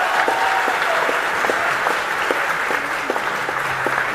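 Steady applause from an audience at a gathering of retired generals, continuous dense clapping filling the room throughout with no talk on top.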